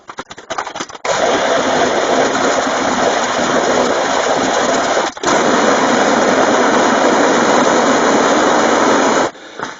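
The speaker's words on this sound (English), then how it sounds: "Fan is rubbing again." Steady whirring, scraping drone of a bent fan rubbing as it spins on a homemade bike trainer with rollers and a knobby tire, running loud and continuous with one brief dip midway.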